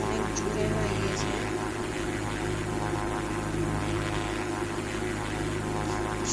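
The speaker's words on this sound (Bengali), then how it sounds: "ইঞ্জিনটা অনেক লো হয়েছে, আমরা ল্যান্ডিং করছি।" A steady, droning airplane engine hum from a flight video game as the aircraft descends to land, continuous and even with a faint higher whine, under no speech.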